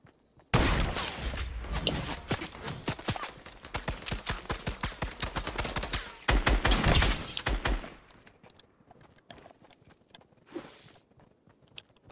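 Rapid bursts of gunfire in the video game Fortnite, loud and close, firing in fast rattling volleys for several seconds before breaking off, followed by quieter scattered shots and faint game sounds.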